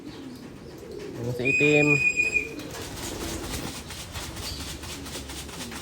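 Racing pigeons cooing in a loft, a short burst of calls and wing flaps near the start, then quiet rustling background while someone speaks briefly.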